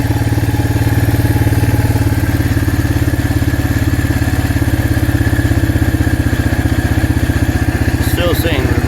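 A 2008 Arctic Cat 366 ATV engine idles steadily while warming up, a close, loud, even chugging that holds throughout, with a brief clatter near the end.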